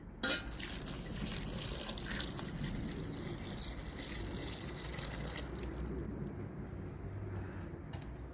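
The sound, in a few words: water being poured into garden soup pot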